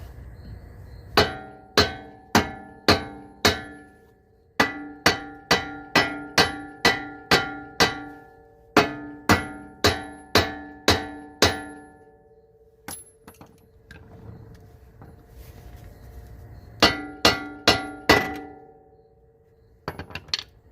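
Series of sharp, ringing metallic strikes from a hammer during upper control arm bushing replacement on a Honda CRX/Civic, in quick rhythmic bursts separated by short pauses, loud and close with no talking.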